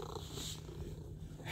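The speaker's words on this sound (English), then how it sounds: "Big purrs. She's got the big purrs." A cat purrs softly and steadily up close, a low rhythmic rumble with no voices.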